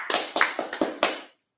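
Close, crisp hand claps at a Sabbath service, about six quick slaps in a loose rhythm that stop abruptly, leaving a short silence.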